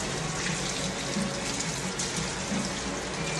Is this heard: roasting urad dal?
no